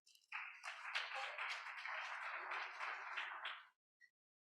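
A short burst of audience applause at a UN 2023 Water Conference side event, many hands clapping steadily for about three seconds before it fades to silence.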